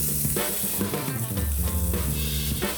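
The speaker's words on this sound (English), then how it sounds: "We're just kind of giving it a little push for the juices, and then also to get a nice sear on it as well." Loud, crackling sizzle of a Wagyu smash burger patty searing on a hot griddle in a restaurant kitchen, with a steady hiss and scraping, pressing sounds over the top.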